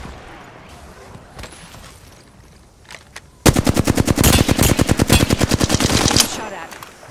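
Sustained automatic gunfire in Apex Legends, a loud, fast rattling burst of about three seconds that follows a few faint, distant shots in an otherwise quiet stretch.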